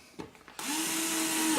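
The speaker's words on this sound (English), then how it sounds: "the pilot holes we drill into wood is going to be with a 1/16 inch bit" Electric drill boring 1/16 inch pilot holes into wood for a quad frame build, a steady whirring hum that starts abruptly after a few light taps and runs on near and loud without pause.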